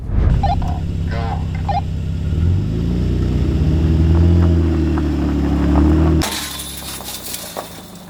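A General Lee car rumbles forward with a steady low engine drone that swells, then slams into a latched gate with a sudden sharp crash and a rattle of metal near the end.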